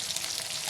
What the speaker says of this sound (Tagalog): Prito ko pa.